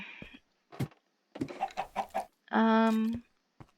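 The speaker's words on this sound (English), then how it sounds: "make sure that we hopefully do not disturb the chickens too much" Minecraft chickens cluck in short bursts with a drawn-out squawk, separated by brief quiet gaps.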